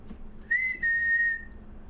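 A person whistles a single steady tone close by, a brief rising start then a held note, clear and alone over a quiet indoor background.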